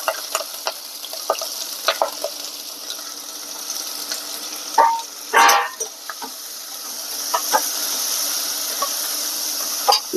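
Chopped onion going into hot oil seasoned with asafoetida and curry leaves, giving a steady close sizzle with scattered pops and one loud burst of crackling partway through, no voices.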